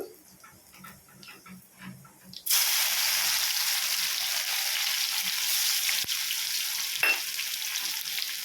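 Dried red chillies and garlic dropped into hot oil, bursting into a loud, steady sizzle close by after a few quiet seconds.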